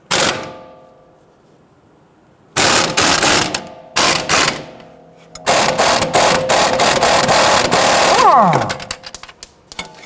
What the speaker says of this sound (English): we're going to use a 21mm socket to loosen and remove our sway bar end link nut